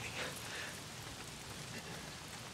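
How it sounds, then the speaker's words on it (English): Rainfall in the zombie video game Days Gone makes a steady, moderately quiet hiss of drops pattering on surfaces, continuous and without speech. "Oh, damn rain. If it's not the freaks, it's the goddamn rain."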